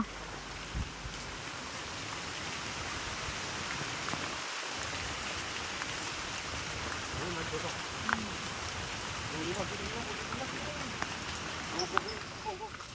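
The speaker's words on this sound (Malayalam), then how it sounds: "കണ്ടോ, മഴ തകർത്ത് പെയ്യണതാണിത്." Heavy rain pours down in a dense, continuous hiss during a rambutan harvest trip, with a person speaking now and then beneath the downpour.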